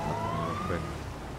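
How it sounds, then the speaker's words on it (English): A brief police car siren in the GTA 5 video game, a single rising wail that sweeps upward over a low rumble and sounds a little distant. "why is he turning on his siren?"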